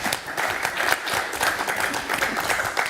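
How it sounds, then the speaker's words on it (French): Attendees at a social affairs commission meeting applaud, giving a steady round of clapping from a modest group of people with a little crowd murmur underneath. "Voilà, on peut applaudir"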